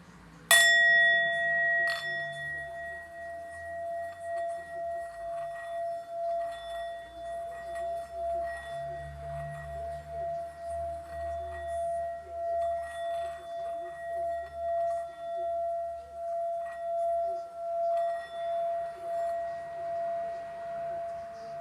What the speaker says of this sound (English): I'm just going to open up with the ringing bowls and then we'll get started